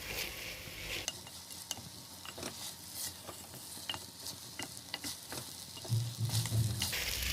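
Basmati rice for sweet zarda fries in a pan as water cooks off, soft continuous sizzle broken by intermittent scraping stirs and light clicks, quiet and close, without speech.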